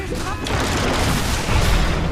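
Mine blasts in a professional Dota 2 match between VP and OG, Techies-style bombs going off as a dense, sustained roar of booming explosions with a heavy low end, continuous across the whole stretch.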